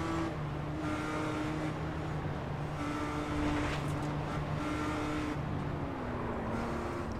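A BMW M2 race car engine drones in a sim racing game at Circuito de Navarra, holding a steady high whine that shifts pitch through gear changes, with other cars faintly around it and no voices.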